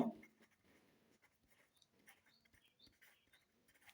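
Pen writing point coordinates during a class 11 straight-line geometry lesson: faint, close scratching strokes in short irregular bursts, alone with no talk.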